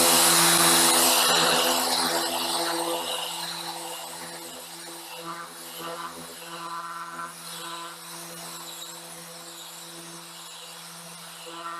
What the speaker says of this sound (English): you're going to be able to get really good dust-free sanding results